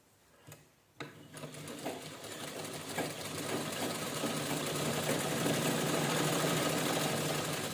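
A sewing machine stitches cloth organizer pieces for holding plastic carry bags. A couple of knocks open it, then a steady mechanical whir builds and runs on, close and without speech.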